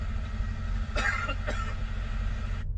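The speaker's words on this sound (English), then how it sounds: "I cough during recording" Two short coughs break through a steady low rumble of background hum, near and moderately loud, about half a second apart.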